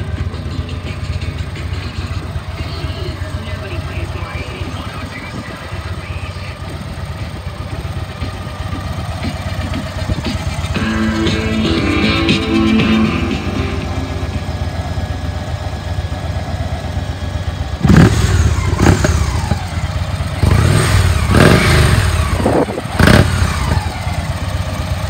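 A 2016 Victory Magnum motorcycle engine idles with a steady low rumble, then revs in a couple of louder throttle blips toward the end, close and unaccompanied by talk.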